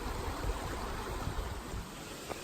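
A mountain valley stream on the way up to Cheongpyeongsa temple by the Soyang River flows in a steady, broad rushing wash, close and unbroken, with no voices.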